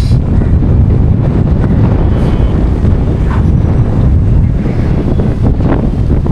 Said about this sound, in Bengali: উফ কি দারুণ বাতাস।